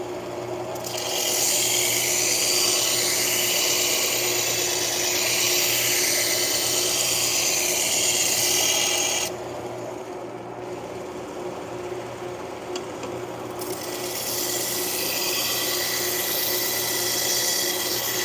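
A kitchen knife is sharpened with steady, continuous abrasive grinding. The grinding is moderately loud, eases off briefly in the middle and then resumes.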